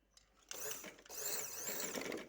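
A sewing machine stitching a chalk slit design with lace starts with a brief whir, then runs in a steady, quiet mechanical hum with a faint rhythmic clatter close by.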